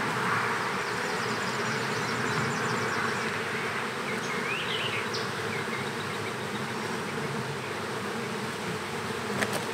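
Honey bees swarm around an open hive during the installation of a nucleus colony, keeping up a dense, continuous close buzz for the whole stretch, with no talking.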